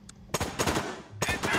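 Gunfire in the tactical shooter game Door Kickers, a short rapid volley of shots followed by a second burst, moderately loud with no talk.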